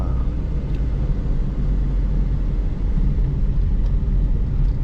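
Inside a 2014 Proton Saga 1.3 FLX automatic on a test drive, the engine and road noise hum as a steady, close low rumble with no talking.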